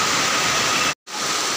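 Heavy rain pours steadily as the sea floods over a basketball court, a dense, loud, unbroken hiss that cuts out for a split second before resuming.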